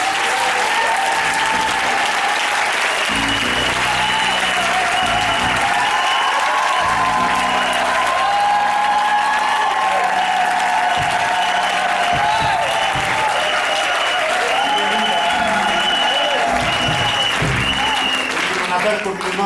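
A church congregation applauds loudly and continuously at an ordination ceremony in Yopougon, a dense roar of clapping mixed with crowd voices.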